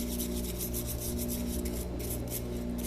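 A wire brush scrubs slag and coal residue off hot forged metal, with quick, rhythmic rasping strokes heard close up over a steady low hum.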